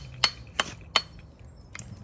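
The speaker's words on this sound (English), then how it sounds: "You hammer that wedge in, that expands that real nice." A wedge being driven into a wooden hammer handle with another hammer: three sharp, close metallic strikes about a third of a second apart, then a fainter fourth tap.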